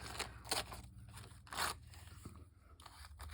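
Newsprint packing paper being crumpled by hand, a run of crisp crackling and scrunching bursts that come and go close by, with no talking.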